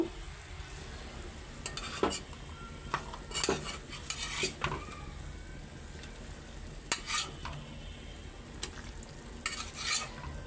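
Fish pieces going into a pot of boiling curry (alu ghati) and being stirred, with repeated scraping and clinking utensil strokes over a steady low bubbling, moderately close with no voices.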